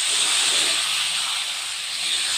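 Marinated chicken hitting hot oil with whole garam masala and bay leaves in a wok, giving a loud, steady broadband sizzling hiss that fills the short moment without letup.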